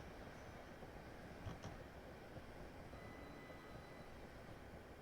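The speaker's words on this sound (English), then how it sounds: "Another train coming in to make a stop here" A train runs into a station on the Chatham Main Line, a steady low rumble of wheels and traction with a faint brief squeal near the start, heard from aboard another train without talk.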